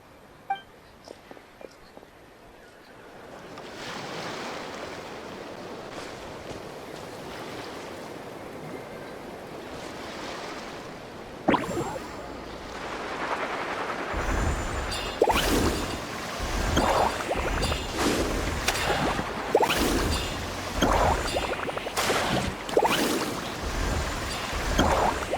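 A shark-shaped surfboard carves across ocean waves in Genshin Impact, with a steady rush of water that swells louder midway, broken by sharp splashes and slapping surges, with no talking over it.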